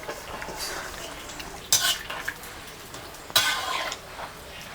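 Banana chips frying in about a kilo of hot oil, stirred now and then: a steady bubbling sizzle with two sharp scraping clatters of a utensil against the pan, close and fairly loud.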